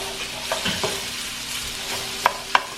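Beef browns in a pan for a rosemary garlic beef stew, a steady sizzle under a low hum, with a few spoon clinks and scrapes as it is stirred, two sharper knocks near the end.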